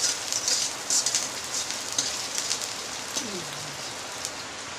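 Steady rain pattering on a surface, a dense continuous hiss with small drips, fairly close, with no voices.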